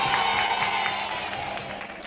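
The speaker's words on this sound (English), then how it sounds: "Please clap." A seminar hall audience at a teacher orientation applauds in a steady, dense wash of many hands clapping, continuous and moderately loud for about two seconds, with no one speaking over it.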